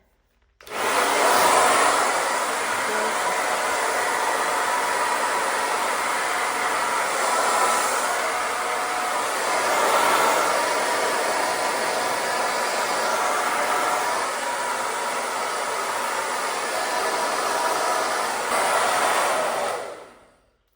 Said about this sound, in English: put your handheld blow dryer on whatever speed, high, low